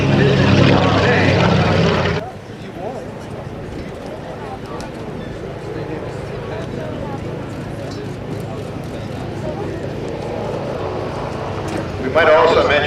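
A Grumman TBM-3E Avenger torpedo bomber roars loudly overhead at an air show over a beach, then its propeller drone fades into a steady distant hum beneath an announcer's commentary and swells again at the end.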